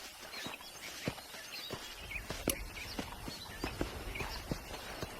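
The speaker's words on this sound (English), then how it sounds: "Let's see if we can't wrangle some horses." Horses from the Western video game Red Dead Redemption walk on a ranch, their hooves clip-clopping in an uneven rhythm. The clops are soft and close, with faint outdoor ambience in the background.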